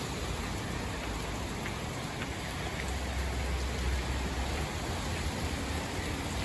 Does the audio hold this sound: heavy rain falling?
yes